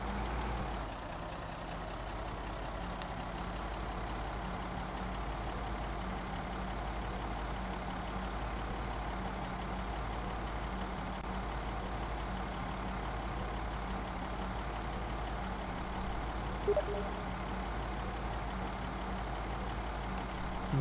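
A vehicle engine in the game Project Zomboid runs with a steady low idling rumble and a faint pulsing hum, constant and fairly loud for the whole stretch, with no voices.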